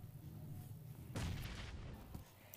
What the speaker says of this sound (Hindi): अब आप ये मेरा 999 IQ ग्रेनेड देखिए